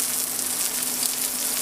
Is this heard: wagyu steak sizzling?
yes